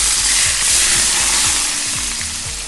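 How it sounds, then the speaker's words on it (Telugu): Hot oil poured over fish pieces coated with salt and chili powder, crackling in a loud, dense, steady sizzle with soft bubbling underneath, no voices. "కాగిన నూనె చేప ముక్కల్లో వేసినప్పుడు ఎలా పొంగిందో చూశారు కదా"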